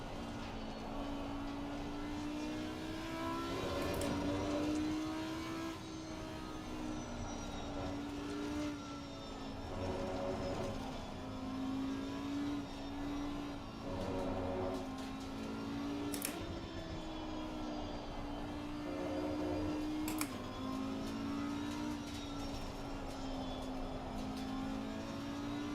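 Audi GT3 race car engine in Assetto Corsa Competizione at Suzuka, a steady loud drone that climbs and drops in pitch through repeated gear changes and throttle applications, no voices.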